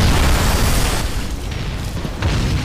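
Rocket explosions near buildings in the war strategy game Men of War, a loud heavy boom with rumbling debris that fades, then a second blast swelling up near the end.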